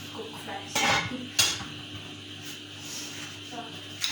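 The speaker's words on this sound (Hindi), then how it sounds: "एंड अब हम इसे 2 to 3 मिनट्स के लिए फ्राई करेंगे." Chicken macaroni mixture being stirred in a pan, with a few clanks of utensil against cookware and a soft background sizzle, close by, while someone talks.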